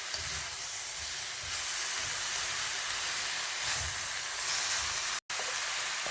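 Chicken chow mein stir-fried over high heat, a soft, steady sizzling hiss with faint scraping pulses and a brief cut near the end, no voices.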